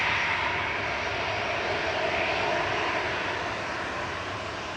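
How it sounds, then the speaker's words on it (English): A Jet2 Airbus A321, originally delivered to Air Berlin, runs its engines at Manchester Airport. The broadband jet roar is loud and steady, easing slightly toward the end. "Parting next in front of us is Jet2. It's one of their A321 classics"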